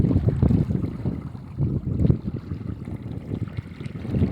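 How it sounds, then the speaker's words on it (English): Waves wash over a rocky, almost sandless beach in the early morning, a steady low rumble of surf rising and falling close by with some wind noise and no voices. "You can hear the waves on the beach here."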